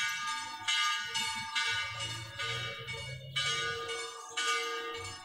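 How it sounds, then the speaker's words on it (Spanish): Church bells ring in a slow, measured sequence, each strike blooming and overlapping the last, with a steady low hum beneath. "El sonido llamativo y pausado de las campanas que invita a la reconciliación"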